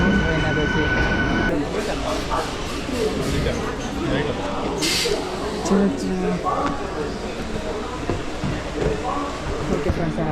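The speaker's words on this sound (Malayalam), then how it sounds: "നമ്മുടെ മെമ്മോ ട്രെയിൻ എത്തിയിട്ടുണ്ട്" A MEMU train rumbles and clatters steadily at a platform, with metallic squeals and a brief hiss of brakes, while people talk in the background.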